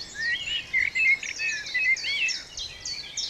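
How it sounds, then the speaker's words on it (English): Chiffchaff, robin and blackbird sing over one another outdoors, bright warbling and chirping phrases layered in a quiet setting. "It's just layers of birdsong. Chiff-chapping just started. Robins, blackbirds."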